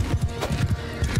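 Horse hooves pound in a fast galloping rhythm during a medieval battle in Mount & Blade II: Bannerlord, loud and close with dense thuds and background battle noise.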